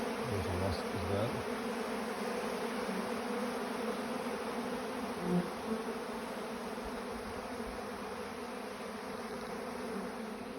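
A dense, unbroken buzz of bees at their hive, joined by a wasp, holds steady and near throughout with no voices.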